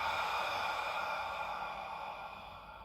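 A long, airy inhalation during a Pilates exercise, a close steady breath lasting a few seconds and slowly fading, with no talking.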